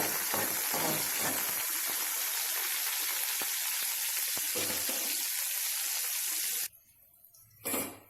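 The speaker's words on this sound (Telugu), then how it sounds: "పచ్చిమిరపకాయలు తాలింపు వేగుతున్నాయి కదా, ఇలా వేగుతున్నప్పుడే మనం కోసుకున్న ఉల్లిపాయలు ప్లస్ కరివేపాకు కూడా వేసేసుకున్నాము" Green chillies, onions and curry leaves fry in hot oil with a loud, steady sizzle that fills the first six or so seconds, then cuts off abruptly before a short burst returns near the end.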